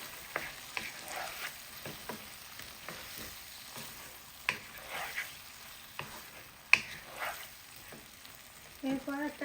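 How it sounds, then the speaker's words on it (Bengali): Fish curry with eggplant and potato being mixed in a pan, giving a low sizzle under irregular scraping and tapping strokes of a utensil, close by and fairly quiet, with a few sharper clicks. "এখন ভালো করে মিক্স করে দেব।"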